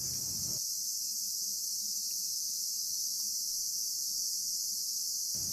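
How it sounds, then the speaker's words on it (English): Summer cicadas give off a steady, dense high-pitched buzz that holds constant throughout, with a faint low background murmur beneath it and no voices. "This next one focuses on the sounds of cicadas in the summer."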